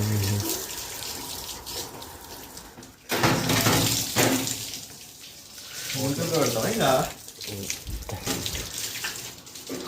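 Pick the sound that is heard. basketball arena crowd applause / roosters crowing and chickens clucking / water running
water running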